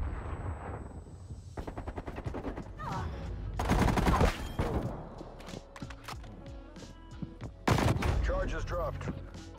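Rapid bursts of MAC-10 submachine gun fire in a Search and Destroy match of Black Ops Cold War, several loud close volleys with short pauses between them, over game effects and some talking.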